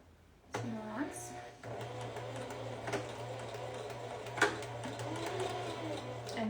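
A sewing machine running a seam at a 1/8 inch allowance, a steady rapid mechanical whir starting abruptly with occasional clicks and knocks, heard close while a person talks over it.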